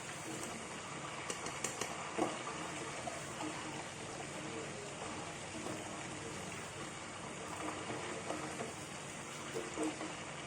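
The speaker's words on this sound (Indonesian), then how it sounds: "menggoreng jengkol" Steady crackling sizzle of young jengkol beans frying in hot oil, a continuous dense hiss with faint pops, close and even throughout.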